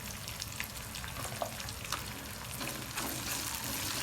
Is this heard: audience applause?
no